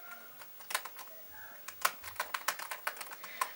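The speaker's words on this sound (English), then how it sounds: "They did change their keyboard" Quiet, shallow clicking of a 2016 MacBook Pro butterfly keyboard typed in short irregular bursts, close and crisp, with no one speaking.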